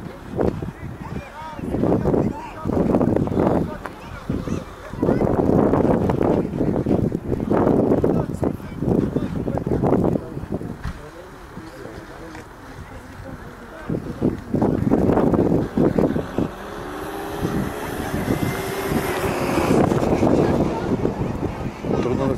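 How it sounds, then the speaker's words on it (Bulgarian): Strong wind buffets the microphone at an outdoor football match, with heavy rumbling gusts coming and going throughout and someone commentating over them. "Много вятър дух."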